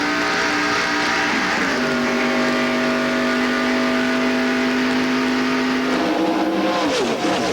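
NASCAR stock cars racing at Daytona in the 1995 Pepsi 400, a loud continuous roar of engines with a sustained droning pitch and revving changes near the end, dense and close, without speech.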